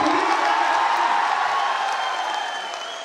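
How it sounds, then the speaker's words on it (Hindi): Crowd applause and scattered cheering at a political rally speech in India, a steady dense clapping wash lasting a few seconds and slowly fading toward the end. "इतनी कमजोर ताली से काम नहीं चलेगा"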